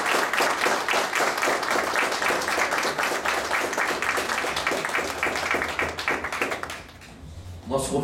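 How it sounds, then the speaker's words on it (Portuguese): Ceremony at the Lucélia city council chamber, where a room of people applaud in rhythmic, fairly close clapping for several seconds before it fades out near the end. "Uma salva de palmas ao nosso querido João Moreira da Silva."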